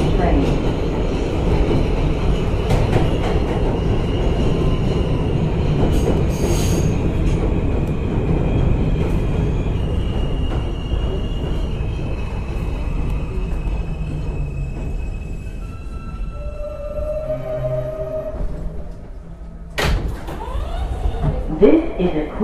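A New York City Queens-bound E subway train, an R160A-2 car, roars steadily along the rails close by, its deep rumble joined by faint squeals and clatter as it runs.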